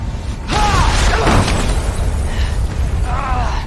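Car explosion in the video game Resident Evil 2: a loud booming burst with crackling debris, followed by sustained rumbling fire noise and further bursts, with game voices faintly mixed in.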